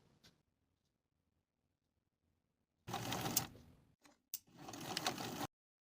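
Sewing machine basting pleats in place along a skirt at 3/8 inch, stitching in two close bursts of a few seconds each with a short pause between, after near silence.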